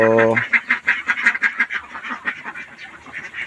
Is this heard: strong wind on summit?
no